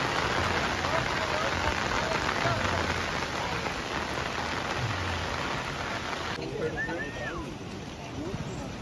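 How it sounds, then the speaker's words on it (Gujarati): Steady, heavy rain pours down on a road beside a swollen river in a strong monsoon downpour. It is a dense, continuous hiss throughout, with faint voices talking underneath. "વરસાદ ચાલુ થઈ ગયો પાછો."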